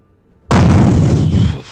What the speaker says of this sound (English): Off to your west, you hear this giant fucking explosion as an arty round hits about 40 meters, 50 meters away.